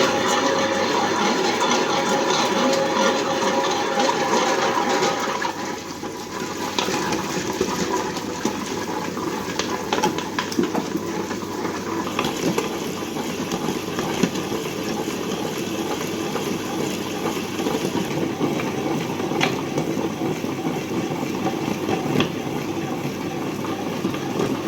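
Smartfingers Comfortplus automatic wet grinder runs with a steady, loud churning and whirring, with sloshing, watery grinding noise and slight shifts in tone, and no talking.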